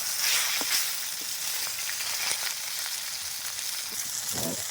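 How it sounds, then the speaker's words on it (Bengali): Pieces of katla fish fry in hot oil in a pan, a continuous close sizzle and crackle with scattered pops and no talking. "আমার মাছটা একটু লাল করে ভেজে নিয়েছি"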